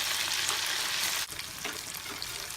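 Mutton pakora pieces fry in hot oil with a dense, loud bubbling sizzle that drops briefly midway and then carries on crackling close up, with no talking.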